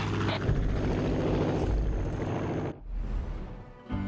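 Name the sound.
helicopter engine running, from video game Far Cry 5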